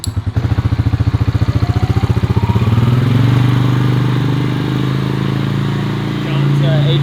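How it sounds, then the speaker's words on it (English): Restored ATV engine idling and revving, a steady mid-pitched motor drone that starts with rapid pulsing firing and settles into a louder, smoother run up close, with voices talking over it. "ATV restoration. This one runs great."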